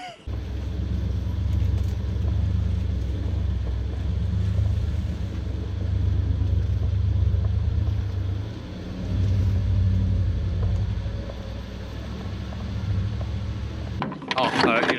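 A BJ40 Toyota Land Cruiser fitted with a 1UZ V8 and manual gearbox drives along, a steady deep engine rumble with a brief dip before it settles, heard up close, and ends in a sudden clatter.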